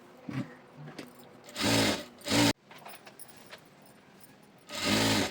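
Sewing machine stitching a petticoat hem, loud close bursts of whirring stitching that start and stop several times with quiet pauses and small handling clicks between runs.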